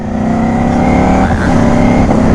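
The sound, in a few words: Ducati Panigale V4 motorcycle engine revving while shifting during ride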